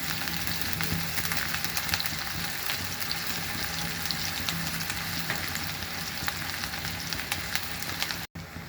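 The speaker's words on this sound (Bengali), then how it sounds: "পেঁয়াজটাকে ভেজে নিচ্ছি" Onion frying in oil crackles and sizzles in a steady close bed of sound, with light stirring scrapes and a sudden cutoff near the end.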